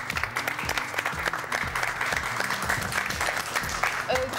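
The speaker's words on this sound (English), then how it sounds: "give them a bit of a round of applause" A studio audience at a Melbourne quiz show claps to welcome the competing teams. The individual claps are distinct and moderately loud over low background sound for about four seconds.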